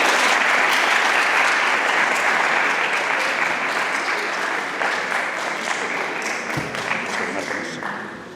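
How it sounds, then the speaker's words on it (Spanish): An audience applauds after a conference talk on literature and adolescence, a full and sustained round of clapping that slowly thins and fades out, with a few faint voices underneath. "Un aplauso."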